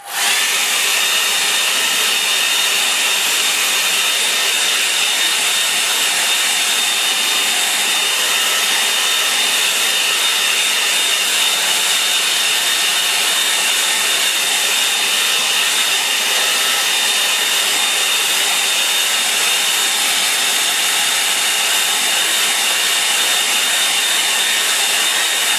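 A hair dryer blows steadily over a freshly painted watercolour sky, a loud continuous whirring hiss with a faint high whine that holds unchanged for the whole stretch, with no talking.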